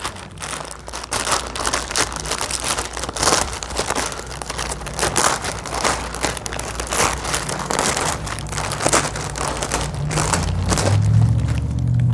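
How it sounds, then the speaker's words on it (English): Knife slicing through sealed plastic wrapping on a boxed marine heat exchanger, continuous close crinkling and rustling with irregular crackles and scrapes throughout. "So we're gonna go ahead and cut this open"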